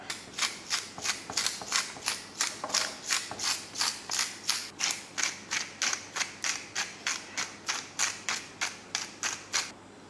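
A pepper grinder seasons a meatball mixture of egg and onion, giving a close, steady run of about two dozen evenly spaced ratcheting clicks with no talk.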